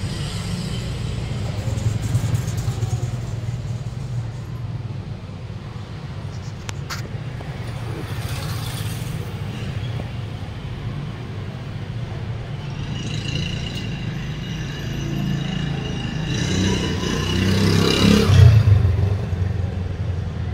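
A motorbike engine runs steadily, close by and fairly loud, its rumble swelling in revs toward the end amid some street clatter.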